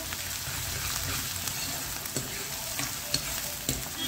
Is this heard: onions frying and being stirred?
yes